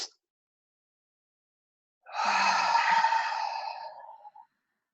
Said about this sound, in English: Deep breath in as much as you can.